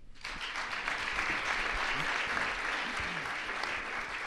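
Sustained audience applause in a hall after a talk, a dense steady wash of clapping that starts abruptly and continues at an even level throughout.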